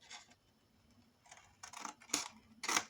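Scissors snipping paper to cut the corners of a scrapbook folio, a few short crisp cuts that grow louder toward the end, close and quiet with no speech.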